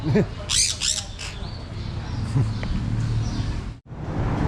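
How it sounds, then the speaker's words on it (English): Small birds in Bangkok give bright, high squawking calls in quick bursts near the start, then a steady low rumble of background noise carries on beneath. "Nice little birds."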